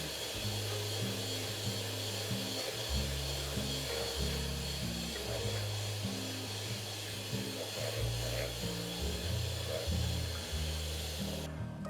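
An electric mixer whirs steadily while blending condensed milk and fresh cream for ice cream, its motor pitch shifting up and down as it works through the bowl, loud and close with no voices.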